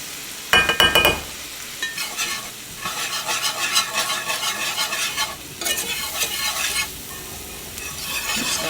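Flour being stirred into onions frying in a pan with oil, a steady sizzle under scraping stirs, with a few clinks of the utensil against the pan near the start; no talking.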